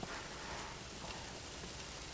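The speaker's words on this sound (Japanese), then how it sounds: "雨がすんごく降ってきました。" Rain falls steadily in a snowy American setting, a faint, even hiss with no distinct drops or voices.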